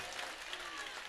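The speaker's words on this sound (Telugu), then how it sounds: "ఎలుగెత్తి చప్పట్లు కొడుతూ ప్రభుని ఘనపరచండి" A church congregation claps loudly together, a dense, brief burst of applause from many hands, with voices mixed in.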